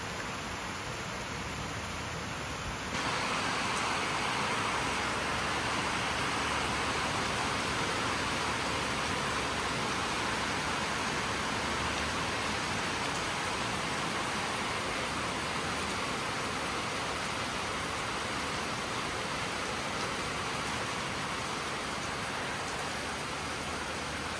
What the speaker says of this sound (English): that was a big rainstorm. That's what that roar was.